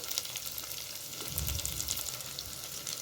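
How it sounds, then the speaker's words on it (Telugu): Onions frying in oil for vegetable pulao, a close, steady crackling sizzle with light stirring. "ఆయిల్ మంచిగా మనకు ఆనియన్స్ ఫ్రై అయినాయి"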